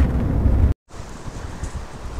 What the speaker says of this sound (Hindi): बड़ी मस्त हवा चल रही है